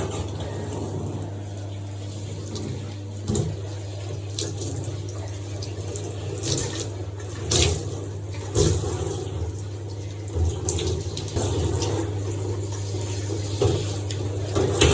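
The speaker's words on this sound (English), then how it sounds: "I'm going to rinse it again because it still feels like there's still more shampoo in it." Water runs steadily from a tap over hair being rinsed of Goldwell scalp shampoo, splashing and gurgling in a sink, with brief louder surges as hands move through the stream.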